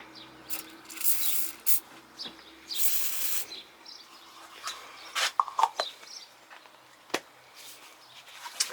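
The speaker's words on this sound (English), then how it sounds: "put a little bit of WD-40 or maybe some CRC to loosen it up before we try and pry it open" CRC penetrant sprayed onto the tail light nuts of a Suzuki Escudo/Grand Vitara, heard as several short close hissing bursts of aerosol spray, separated by light rubbing and handling sounds, with no speech.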